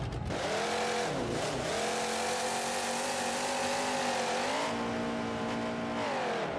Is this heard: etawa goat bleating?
no